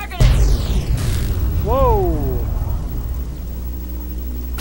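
A loud booming explosion in Fallout 3 bursts out near the start, followed by rumbling, whooshing effects and excited voices talking over the din.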